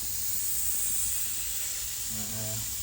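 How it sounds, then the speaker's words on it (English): Steam hisses steadily from the filler cap of a Doll 364 model steam engine during its first test run after restoration, a continuous breathy rush with a faint low hum joining near the end. "there's a little steam coming from the filler cap"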